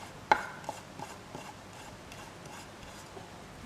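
Very sharp knife shaving closely bunched herbs into long slivers for tabbouleh, with one crisp cut near the start followed by a few fainter, softer chopping strokes, quiet and close.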